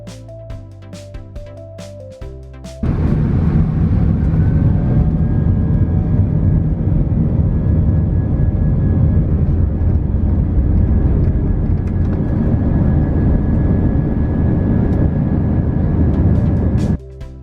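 Steady, loud roar of an American Airlines Airbus A319 taking off on a short-haul flight, heard from inside the main cabin, building abruptly and holding a constant engine drone with a faint whine throughout.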